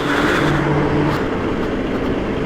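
A bus passing by on a road, a steady broad engine rumble with traffic noise, loud and close, fading slightly toward the end.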